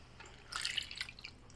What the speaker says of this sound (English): So now I'm just adding water to get it to the right level.